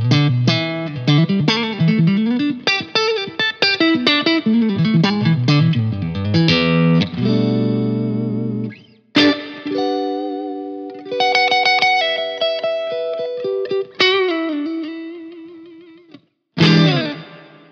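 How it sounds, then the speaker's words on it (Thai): Clean electric guitar played through a Laney GHR series amp with its built-in digital reverb switched on. Quick melodic runs and sustained notes ring out with reverb tails, broken by a few short gaps, with no one talking. "รีเวิร์บตัวนี้นะครับทำเป็นดิจิตอลรีเวิร์บนะครับ"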